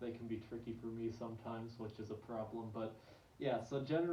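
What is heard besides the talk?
None of the usual background noises is heard.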